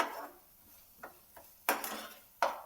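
Spoon scraping and clinking against a pan while vegetable curry is mixed over a low flame, a few soft taps then two sharper metallic knocks, quiet and unhurried.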